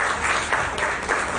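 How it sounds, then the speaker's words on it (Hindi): Audience applause welcoming a guest at a family program, a dense wash of clapping from many hands, close and steady throughout the brief moment. "प्लीज जोरदार तालियों से इनका वेलकम कीजिए।"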